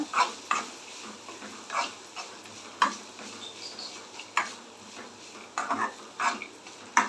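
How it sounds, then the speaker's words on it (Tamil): Shaved coconut fries in ghee for moong dal payasam. Close, irregular scrapes and clinks of a spoon stirring in the pan sit over a faint, soft sizzle. "இது வந்து நல்ல நெய்லேயே வறுபடட்டும்"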